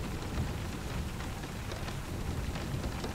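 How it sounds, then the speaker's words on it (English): Rain falls steadily through the night in a thunderstorm, a dense continuous hiss of drops on streets under orange street lamps, close and even throughout with no voices. "See the fuzz of rain just beneath the orange glow of the street lamps, where the raindrops drip from a great height."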